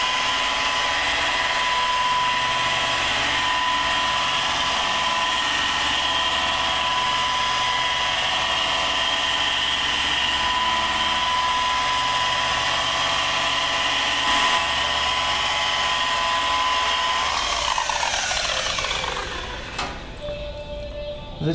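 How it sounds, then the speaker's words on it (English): A power buffer with a wool pad polishes compound on the paint of a 1968 Camaro, a steady loud whine holding throughout before winding down near the end. "And I just keep buffing it until it polishes out."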